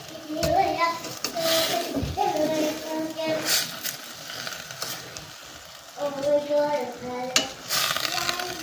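A pan of labong, bamboo shoots with shrimp, is stirred as it fries, with steady sizzling and scraping strokes under background voices and music-like tones.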